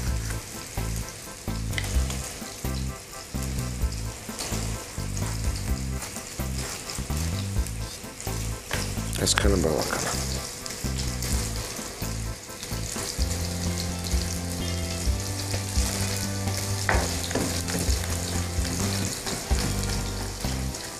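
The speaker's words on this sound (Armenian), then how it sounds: "Թող տապակվի սոխը, թափանցիկը նա" Onion fries in a pan with a loud, steady sizzle, close up, broken by stirring clatter and a short spoken phrase.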